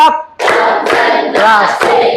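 A classroom of students clapping hands in unison, several short bursts of rhythmic claps in quick succession, close and loud, with no talk over them.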